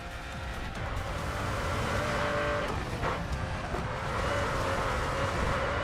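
A Mercedes CLK race car corners flat out on the Nurburgring in Racing Master, its engine roaring loud and continuous with a faint tire squeal through the turn.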